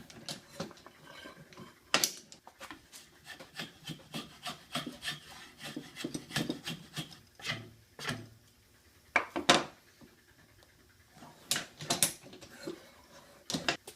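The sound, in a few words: draw knife shaping a cherry and walnut wooden sword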